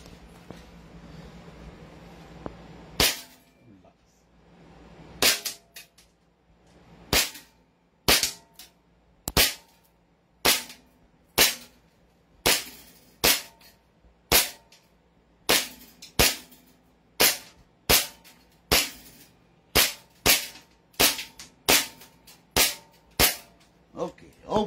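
A John Wick Pit Viper pistol fires more than twenty sharp, loud shots at a range, at first spaced a few seconds apart, then quicker and more regular, with faint background noise between.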